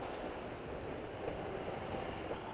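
Train running on a main railway line into London, a steady rumbling roll heard from a moderate distance, faint and continuous with no voices.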